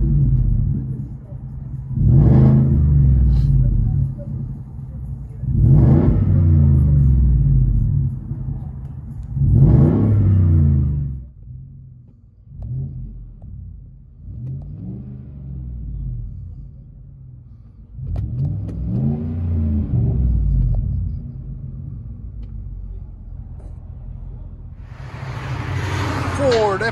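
A Ford F-150 King Ranch 5.0-liter Coyote V8 with a Flowmaster Flow FX exhaust revs repeatedly in deep, throaty bursts, each rising and falling, with a rumbling exhaust idling between pulls.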